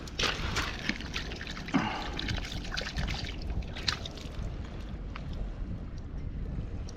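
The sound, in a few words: washing a dug-up metal find with water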